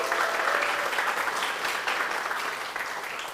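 Applause from an Indonesian open mic stand-up comedy crowd, a steady wash of many hands clapping at moderate volume, easing slightly toward the end.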